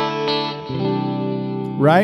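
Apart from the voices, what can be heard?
guitar amp clean channel with delay and reverb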